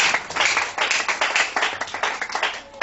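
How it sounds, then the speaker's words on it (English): Hands clapping for Jesus during a church testimony, a group beating out rhythmic, fairly close claps in quick pulses, fairly loud throughout. "Clap your hands for Jesus."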